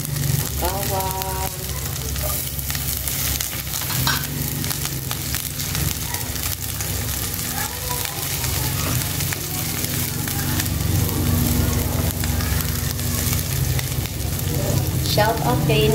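Chopped garlic sizzles steadily in hot oil in a pan while a vegetable dish is cooked, with spatula scrapes and stirring clatter over the constant frying hiss.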